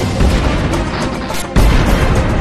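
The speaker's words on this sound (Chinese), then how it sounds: "街边的小吃店突然发生爆炸" Loud, dense rumbling blasts from a gas explosion at a roadside street food shop on a busy late-night food street, with a sharp new burst about two-thirds through, all heard as rough, dense broadband noise.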